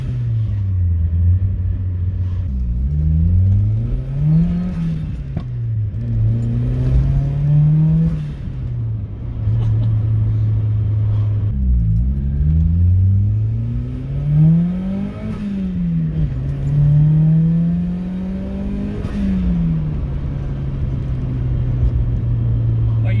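Turbocharged Mazda Miata of about 200 wheel horsepower, heard close up as the exhaust revs and falls in repeated swells, with the blow-off valve hissing between rises over a steady engine rumble.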